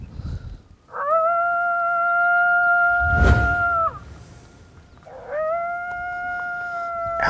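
Female coyote sore howls from an electronic decoy call, two long sustained wavering tones with a pause between them, played outdoors with a brief burst of noise in the middle and no talking.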